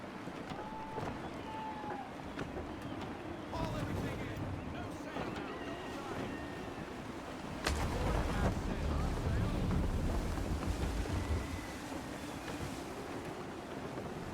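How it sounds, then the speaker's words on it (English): Gusty wind rushes over open sea in a sailing game, a steady broadband roar with surf and hull wash that swells louder midway, with brief tonal cues above. "Gusty winds can be difficult to manage"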